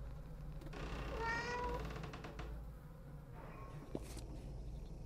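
A cat meows softly in the video game Pieces of Me, with one faint drawn-out meow and a second weaker one heard over a low, steady background hum.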